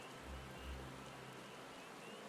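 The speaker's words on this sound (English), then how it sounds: "it's raining" Rain falling in Final Fantasy XIV, a soft, steady hiss of rainfall at low level, continuous with a couple of faint low thumps early on.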